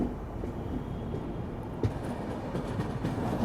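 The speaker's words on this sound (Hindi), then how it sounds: "अपनी ट्रेन का अराइवल हो रहा है सांतरागाची" Rumbling train noise with low mechanical drone and occasional clanks, a steady rolling sound as the Howrah-Puri Dhauli Express moves along the tracks arriving at Santragachi station.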